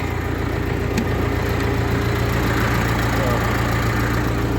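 A YuMZ 4x4 tractor engine runs just above idle with an even, low, throbbing drone that stays close and steady throughout.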